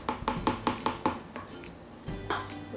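A spatula scrapes and taps against a container while mixing fragrance oil into soap batter, a quick run of sharp clinks and knocks that slows, pauses, then returns with a few softer scrapes.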